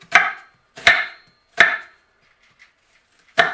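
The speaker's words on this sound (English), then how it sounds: "So slice it in half, fight with your outer edge, slice down, slice down, slice down." An onion is sliced down on a cutting board with a knife, making four sharp, separate chops spaced about a second apart, close and crisp, with a faint tap in one of the gaps.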